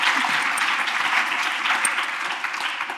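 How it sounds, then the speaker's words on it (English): Warm, sustained applause from an audience at a food literacy event, steady and fairly loud throughout, with no voices over it. "Please give a warm round of applause to Kimberly Seals Allers"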